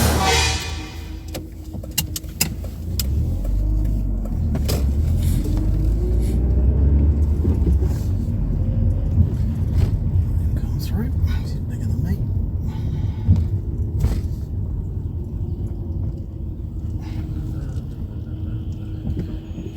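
A car drives along a road during a mock driving test, steady low engine and road rumble throughout with a few faint clicks and knocks, and people talk over it.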